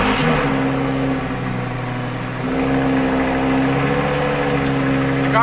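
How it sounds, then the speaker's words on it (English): Lamborghini engine on a cold start in winter, a loud, steady, droning roar held close up, with a slight change in pitch partway through and no voices. "The car is basically so loud when it starts up initially, you can't have a conversation with people if you're anywhere near the car without raising your voice"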